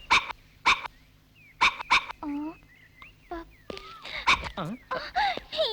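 A dog barks several times in sharp bursts, interspersed with short whines and yips, while people talk nearby.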